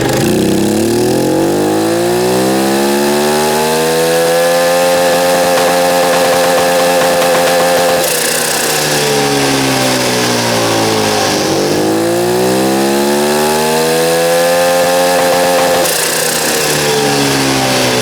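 Turbocharged 150cc go-kart engine on a dynamometer power run, its buzzing note climbing steeply in pitch through the revs, dropping, then sweeping up again in a second pull; loud, harsh and close, with no voices.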